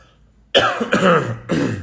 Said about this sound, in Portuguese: aquele frio da semana passada deixou eu com uma tosse aqui